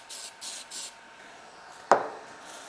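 Spray glue from an aerosol can aimed into a garbage can: a few short hissing bursts of spray, then a sharper knock. Nearby and fairly quiet, with no voices.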